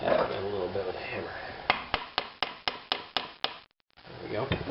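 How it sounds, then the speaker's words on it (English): Eight sharp metallic hammer taps on a part of a 1928 Farmall Regular tractor in a steady, evenly spaced rhythm, close by, with a voice talking before and after. "Tap it a little bit with a hammer."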